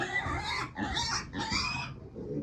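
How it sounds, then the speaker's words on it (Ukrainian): Broiler piglets about eight days old, a meat breed, squealing loudly and close up in three harsh bursts, the last one trailing into softer grunting. "це поросята бройлерного походження"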